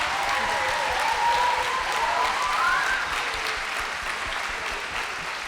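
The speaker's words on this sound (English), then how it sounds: "Could we please give Sienna and Andrew a big hand," Steady audience applause at a grade 6 and 7 spring music sharing at a school, loud dense clapping that tapers slightly toward the end, with a faint tone drifting underneath.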